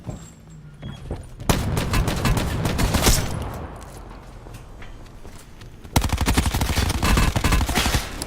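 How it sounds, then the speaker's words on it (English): Gunfire in Call of Duty Black Ops 4 Blackout mode: sharp single shots, then dense rapid bursts of automatic fire with loud crackling reports and a brief lull between volleys, with no voices. "I hear this guy take a shot"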